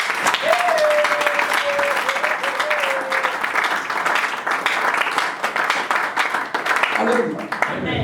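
A church congregation applauds in worship, dense continuous clapping close and loud throughout, with a sustained voice or tone briefly rising over it early on and some speech near the end.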